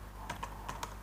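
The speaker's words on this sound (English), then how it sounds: "I will type simply not" Computer keyboard keys typed in a few quick, separate taps, close and clear over a steady low background hum.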